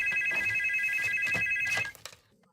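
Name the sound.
telephone ringing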